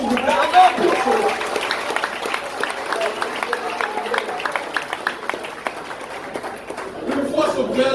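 Applause from an audience at a café philo talk: dense, steady clapping with crowd noise that fills the whole stretch, mid-level and continuous, fading slightly before rising again near the end.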